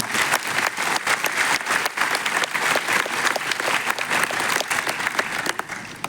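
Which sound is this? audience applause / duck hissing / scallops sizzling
audience applause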